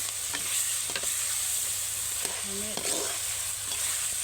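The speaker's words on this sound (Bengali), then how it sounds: "রসটা দিয়ে আমি একটু সামান্য একটু নাড়াচড়া করে" Chicken roast masala frying in a pan, stirred a little after fried juices are added: a steady broadband sizzle runs throughout, with soft scraping stir strokes and a few light clinks, close and moderately loud, no talking.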